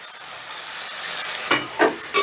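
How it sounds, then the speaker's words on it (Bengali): Coconut milk poured into a pan of chickpea and tomato masala, a loud steady frying hiss with three sharp stirring scrapes near the end. "ছোলা দিয়ে মশলাটা মিনিট 2-এর মতন কষে নিয়ে আমি দিয়ে দিচ্ছি নারকেলের দুধ"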